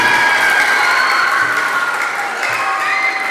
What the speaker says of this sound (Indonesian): Tepuk tangan untuk mereka 2, 4, 6, 7 orang.